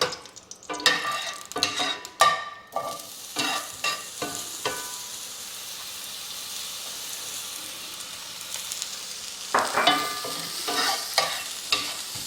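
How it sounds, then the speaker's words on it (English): Mushrooms sizzling and frying in beef tallow in a pan, with bursts of stirring and scraping at the start and again near the end, a steady soft hiss in between, close and fairly loud, no talking. "So I'm going to cook the mushrooms next."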